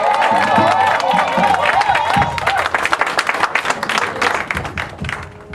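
A church congregation claps and cheers in praise of the Lord, loud, dense applause with shouts rising and thinning out, and voices mixed into the crowd.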